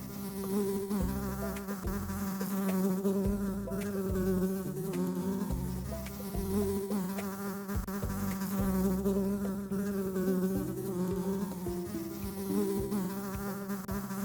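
Bees buzz steadily and densely around an open beehive during an inspection, with a dense layered drone filling the whole stretch at a constant close level and no speech.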